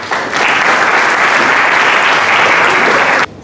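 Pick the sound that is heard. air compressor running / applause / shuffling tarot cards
applause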